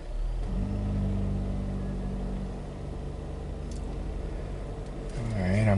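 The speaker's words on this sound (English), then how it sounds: "Okay, let's start the vehicle." A 2023 Volvo XC90 engine turns over and settles into a low, steady idle rumble heard from close by, with a brief rise near the end.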